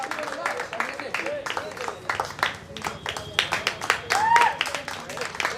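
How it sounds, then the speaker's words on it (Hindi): Scattered clapping from a Hindi-speaking audience greeting a chief guest at a stage event, uneven bursts of hands rising and falling, with voices talking over much of it. "जोरदार तालियां आप लोग उनके लिए बजाइएगा।"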